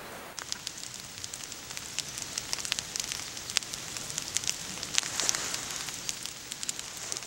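Steady rain falls at Songgwangsa, a Buddhist temple on the west side of Jogyesan in Suncheon, with dense hiss and scattered close drops pattering on surfaces throughout, no voices.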